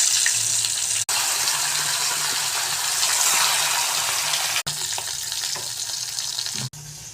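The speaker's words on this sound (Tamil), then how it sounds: "கொஞ்சம் லேசாக கொதிக்கட்டும்." Chicken curry (kuzhambu) simmers and sizzles in a pan, a continuous bubbling hiss with faint stirring clinks, close up and steady, broken by a few abrupt short gaps.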